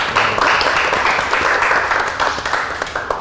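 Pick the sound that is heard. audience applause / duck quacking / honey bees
audience applause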